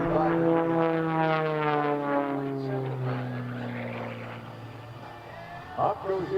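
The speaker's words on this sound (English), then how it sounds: "Up goes the airplane once again out to the left." A propeller aerobatic airplane flies at an airshow, its engine droning as the pitch slides downward while it pulls through a maneuver, with an announcer talking over the fairly distant engine sound.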